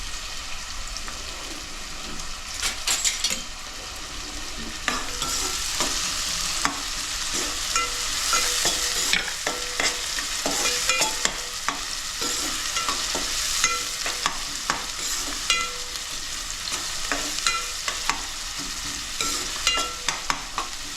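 Finely chopped onions frying and being stirred in hot oil for a crab bharta, a dense, continuous sizzle with frequent scraping stir strokes, close and steady throughout.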